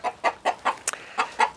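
Farmyard chickens clucking close by, a run of about seven short, sharp clucks in a quick, uneven rhythm, clear and alone without talk.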